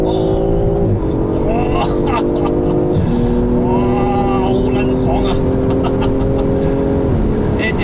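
BMW M340i with its six-cylinder engine pulling hard, loud and steady from the cabin, pitch climbing in stepped sweeps through gear changes, with a voice whooping over it.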